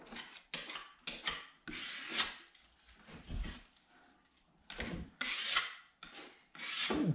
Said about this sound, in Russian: мы еще при помощи шпателя выравниваем